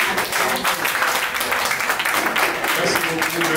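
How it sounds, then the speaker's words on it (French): Audience applause at an anniversary celebration event, a dense, steady wash of clapping that fills the room throughout, loud and continuous with no pause. "Ça s'applaudit, s'il vous plaît"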